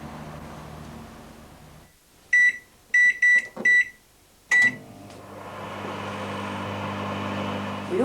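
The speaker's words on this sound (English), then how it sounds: "A microwave oven." A microwave oven beeps five times in quick, bright tones, then its fan and motor hum steadily as it starts running.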